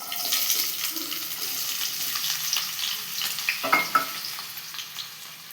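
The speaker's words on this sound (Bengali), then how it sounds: "তেল গরম হয়ে গেছে, এবার পেঁয়াজ কুচি দেবো আমরা।" Chopped onions frying in mustard oil for an old-style chicken dish, a bright busy sizzle with crackles and a few louder stirring clatters near the end.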